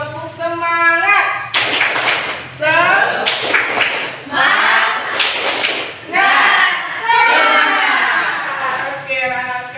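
Children in a classroom clap a rhythmic spirit clap in several sharp bursts, close and loud, with voices chanting along between the claps.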